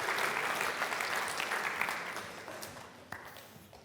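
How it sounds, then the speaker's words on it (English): Sustained audience applause from a crowd at a statistics talk, dense steady clapping that gradually tapers off over a few seconds, with a few louder individual claps standing out. "if everyone could give Bella a nice big round of applause"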